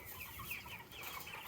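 Cornish Cross meat chickens cluck steadily in a flock, several birds overlapping in a continuous close chatter with no talking.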